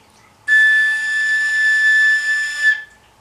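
A single long whistling A6 on a koncovka, an open overtone flute, held steadily for a little over two seconds, bright and loud with a slight swell near its end, alone without other sounds.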